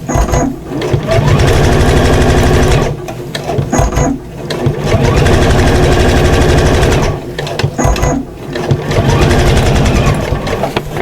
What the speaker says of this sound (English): So I stitch about a 1/16 of an inch away from the seam line.